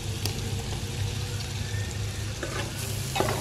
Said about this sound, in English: So we're gonna go in with some chopped scallions, and we're also gonna go in with some sliced onions.